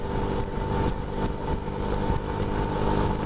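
A passing car's engine in a motorbike video game drones at a steady, moderately loud hum, with small swells in intensity and no voices.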